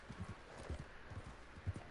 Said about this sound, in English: My horse is damn near fucking dead.